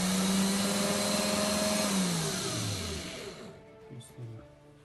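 Electric drill running on 220 V mains power switched through an internet-controlled relay, a loud steady motor whine that winds down in pitch and fades to quiet as it is switched off.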